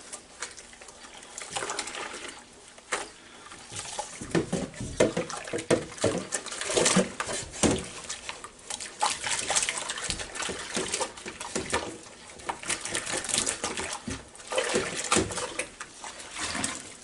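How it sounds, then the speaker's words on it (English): A Ninja Foodi pot is swished around in a sink of dishwater, giving continuous close sloshing and splashing that rises and falls, with no speech. "Now we'll put it down this dishwater here. Swish it around a little bit."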